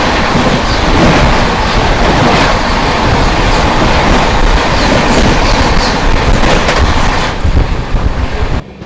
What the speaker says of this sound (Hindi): Howrah Bikaner superfast express